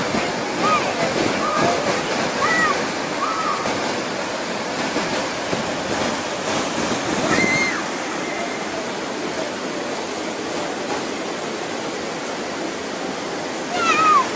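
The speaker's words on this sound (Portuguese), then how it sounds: "Faz até cachoeira." Continuous rushing water, like a small waterfall pouring steadily, filling the whole clip with a dense, even roar.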